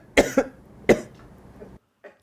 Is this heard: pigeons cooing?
no